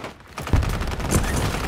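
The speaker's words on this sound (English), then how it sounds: "Friendly mortar strike on the way" Explosive mortar strike in the Warzone video game, a dense rumbling barrage of booms and impacts rolling continuously over under two seconds, loud and close with heavy low-end thumps.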